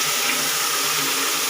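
Water streams steadily down into a hole in thick, hard ground, a continuous broadband rushing and gurgling that stays even in level throughout with no voices over it.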